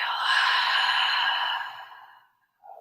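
A long, deep exhale during yoga breathing, a loud breathy rush that fades out over about two seconds, followed by a brief soft breath at the end.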